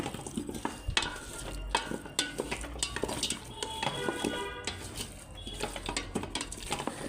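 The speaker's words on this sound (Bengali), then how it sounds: "তো এই যে আলুটা দিয়ে দিছি, এটা আমি একটু সুন্দর করে নাইড়া দেই যাতে হইতে তাড়াতাড়ি হয়ে যায়" A spoon stirs potatoes into meat curry in a metal pot, with steady close scraping and clinking and a soft sizzle running underneath throughout.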